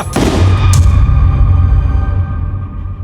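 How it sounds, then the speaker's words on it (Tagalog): A single loud gunshot rings out close in a dramatized horror tale about a father shooting a monster, with a sharp crack followed by a long, booming low rumble that slowly fades. "Sa isang putok ng baril ni tatay natumba ang aswang"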